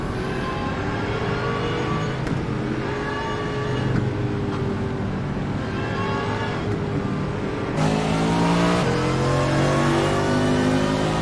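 Race cars on a pace lap at Daytona in a racing video game, engines droning steadily at moderate revs throughout, with a pitch shift partway as a gear changes, loud and continuous.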